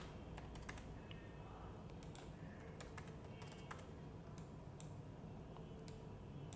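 Fast, light keystrokes tap out numbers on a computer keyboard in a spreadsheet, a continuous patter of quiet clicks over a steady background hiss.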